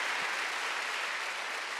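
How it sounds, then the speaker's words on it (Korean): A church congregation at a Wednesday service applauds together, a dense, steady wash of clapping that fills the room for the whole stretch with no voices over it. "미션 박수로 한번 드리시죠"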